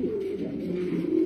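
A robust medium-sized racing pigeon cock cooing, a low, soft, continuous throaty murmur close to the listener with no talk.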